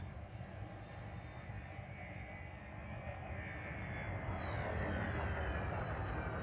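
A spaceship in Elite Dangerous runs at full throttle and boosts, a steady engine roar that swells louder and brighter over several seconds, with no voices.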